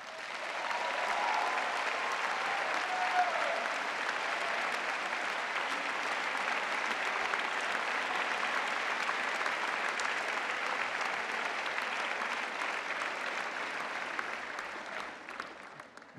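An audience at a Masters graduation ceremony claps loudly and continuously. The dense applause holds steady, then tapers off toward the end.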